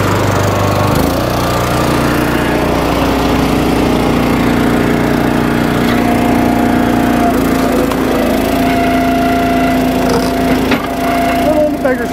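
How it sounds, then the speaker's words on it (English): An Eastonmade 12-22 log splitter's engine drones loudly and steadily while splitting red oak, with a pitch shift as the throttle rises and faint creaks and cracks of wood over the running motor. "I guess I should turn the throttle up on the splitter"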